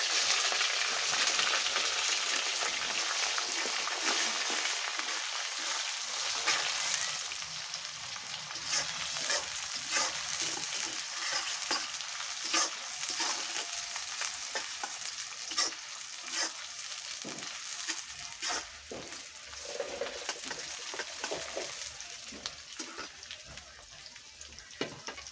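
Chopped onions fry in hot oil in a pan, giving a continuous close sizzle with crackling pops and occasional scraping stirs, the sizzle easing slightly over the course.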